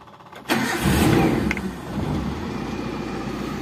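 A 1995 Daihatsu Zebra Espass with a 1300cc engine cranks briefly and fires up, then settles into a steady, close idle with no voices.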